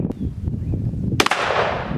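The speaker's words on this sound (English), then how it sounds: "That is a satisfying explosion of soda." Shotgun loaded with buckshot fired at a soda bottle on a shooting range, one sharp loud blast with a quick decaying crack, preceded by faint background noise and short bursts of sound.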